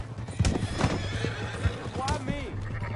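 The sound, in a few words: horse neighing in video game Red Dead Redemption 2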